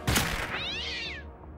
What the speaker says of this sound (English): Did I kill a cat?